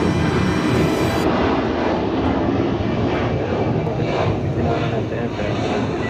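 A departing airliner at Atlanta airport roars as a steady, broad engine rumble at close range, filling the whole stretch without a break.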